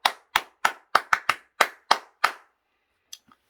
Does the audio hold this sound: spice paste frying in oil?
no